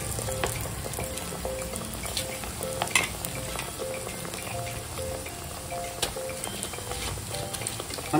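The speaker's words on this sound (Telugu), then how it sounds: "పల్లి నూనె అది వేసిన, అందుకని నురుగు వస్తుంది." Garelu frying in peanut oil in a large kadai, the oil foaming up, with a continuous close sizzle and bubbling crackle plus a few light clinks, no voices.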